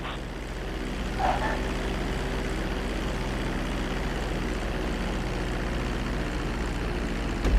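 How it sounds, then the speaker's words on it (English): A jet airplane decelerating toward a runway to land during a GTA V flight school lesson, its engines giving a steady, loud drone that holds unbroken throughout, with no talk over it. "Start to decelerate while you're still in the air, but be careful not to stall the engines."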